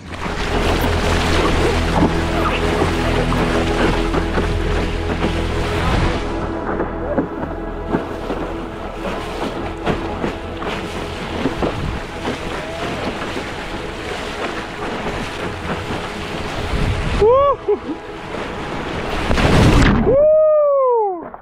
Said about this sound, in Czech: Jaký vlnky tady máme, jo, jako nic moc, oproti tomu, jak to tam vypadalo včera